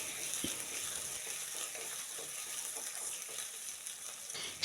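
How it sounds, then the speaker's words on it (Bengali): Onions frying in a pan for a traditional Naogaon dish, potato or puffed-rice ghonto: a steady, fairly quiet sizzle with soft stirring scrapes, no talking. "পেঁয়াজটা আমার মোটামুটি ভাজা হয়ে গেছে"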